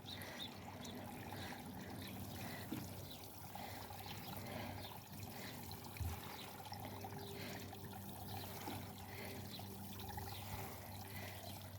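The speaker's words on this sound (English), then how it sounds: "I'll just give them a little fine little water with the watering can and then they're done." A watering can sprinkles a fine stream of water over freshly planted carrots, a soft steady trickling patter that runs continuously and faintly, with no talking.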